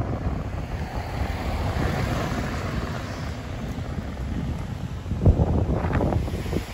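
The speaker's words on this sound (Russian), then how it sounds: "Море штормит" Stormy sea waves roll in under heavy wind buffeting the microphone. The result is a continuous loud broadband roar, with a sharper gust or wave burst near the end.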